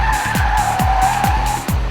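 A 2012 Mini Cooper S, tail stepping out as it is pushed through a corner, gives a loud, sustained tyre squeal over a steady engine note, with regular pulsing thumps from close by.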